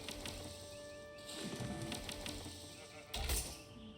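A few faint bleats of sheep in the Age of Empires 4 video game, heard among quiet background game sounds and with a louder burst near the end.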